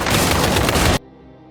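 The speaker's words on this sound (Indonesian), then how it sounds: "tiba-tiba ada pembunuh bayaran yang melepaskan tembakan ke arah Tasya." Gunfire from a hitman in an action movie scene, a loud dense burst of rapid shots filling the first second before cutting abruptly to quiet.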